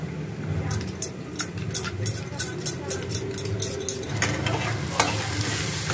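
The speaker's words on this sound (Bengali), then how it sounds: "মূলোটা আলুটা দেখুন ভাজা ভাজা হয়ে গেছে" Radish and potato pieces frying in a pan, a continuous close sizzle broken by regular scraping strokes of a spatula stirring them, moderately loud and steady.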